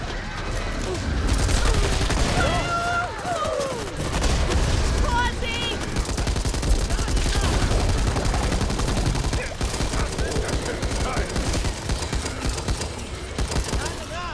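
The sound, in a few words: gunfire against horde in Back 4 Blood video game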